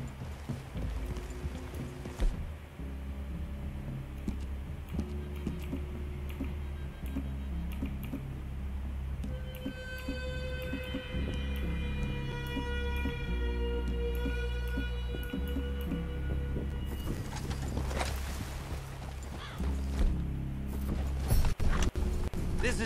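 Horses walk through a clearing in the Red Dead Redemption 2 video game, hooves clip-clopping at a slow uneven pace under game ambience and faint tones, with gear and movement sounds building toward the end.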